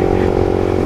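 A stock Honda CBR motorcycle engine drones steadily while riding, a loud, close, continuous buzzing hum with no break.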